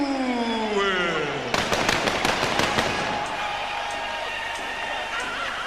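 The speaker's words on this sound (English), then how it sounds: "Fireworks to celebrate." Fireworks celebrating Lennox Lewis's heavyweight championship win at a boxing match: a burst of sharp cracking bangs in quick succession, fading into crowd roar, with a rising whistle before and a commentator's voice mixed in.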